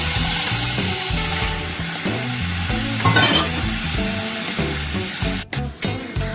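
Steady sizzling of food frying in hot oil with a little turmeric in a wok, with stirring scrapes, under continuous background music.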